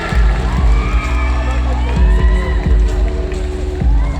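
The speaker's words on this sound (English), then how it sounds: "a round of applause for Bea" Audience at the Miss World Philippines 2022 pageant cheers and shouts loudly and continuously for a contestant, a dense close crowd roar with rhythmic thumping music beneath it.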